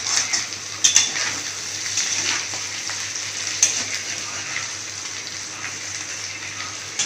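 Paneer fries lightly in a pan with a soft, even sizzle and faint crackle, a few small clinks of a utensil against the pan near the start, no voices.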